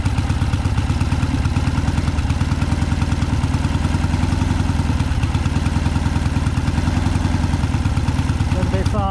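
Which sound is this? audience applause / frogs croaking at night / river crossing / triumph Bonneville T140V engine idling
triumph Bonneville T140V engine idling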